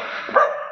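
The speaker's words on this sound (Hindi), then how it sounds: "ये इतने सारे कुत्ते मुझे देख करके भाव भाव क्यों कर रहे हैं" Dogs bark outside a Gurgaon mall, a short burst of yips rising over steady background noise, fairly close and loud for under a second.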